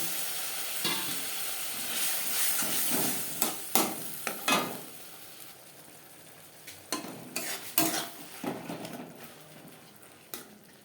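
Spice paste for a Bengali tangra fish curry frying in a pan with a splash of water, a steady sizzle with repeated sharp scrapes and clinks of a spatula stirring, close and alone.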